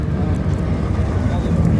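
An orange rally car at the 2024 Ponte Caldelas hill climb roars past as a brief, steady low rumble mixed with wind buffeting on the microphone.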